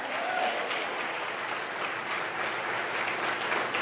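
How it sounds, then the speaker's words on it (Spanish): A church congregation bursts into sustained, dense applause at a service, a steady wash of many hands clapping throughout with no voices standing out. "Denle un fuerte aplauso al Señor"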